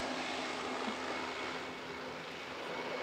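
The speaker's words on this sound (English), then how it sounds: "and that's an airplane." Airplane flying overhead above an off-grid homestead with solar panels on a metal arch, a steady broadband engine roar holding fairly constant throughout with no one speaking.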